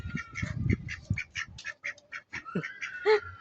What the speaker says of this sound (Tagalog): Meron din po kami ditong itik